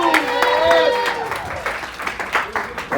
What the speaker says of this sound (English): let's keep that applause going, let's keep that noise going for the next comic, Meldon Williams.